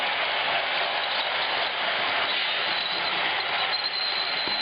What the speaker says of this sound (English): Very typical Pennsy mail train with a rider coach in the end.